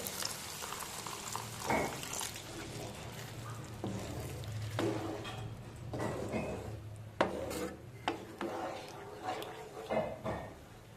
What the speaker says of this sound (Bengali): গ্রেভিটা খুব সুন্দরভাবে ফুটে গেছে